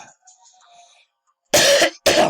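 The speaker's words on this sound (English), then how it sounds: "I still am trying to fight this cough." A man with a lingering cough clears his throat and coughs, faint rasps first, then two loud, close, harsh coughs in quick succession, with no speech.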